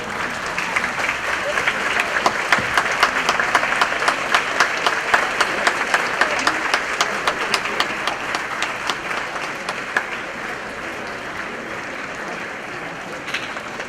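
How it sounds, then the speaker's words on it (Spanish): A seated audience at a USMP honorary doctorate ceremony breaks into sustained, dense applause to welcome the university authorities, steady and loud for the whole stretch with no talking over it. "Y los recibimos con un aplauso"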